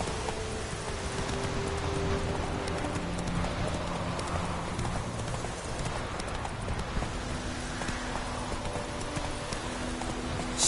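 Horse galloping in a PS4 video game: fast, even clip-clop hoofbeats running throughout, with a faint rustling ambience and a low tonal game-music hum underneath.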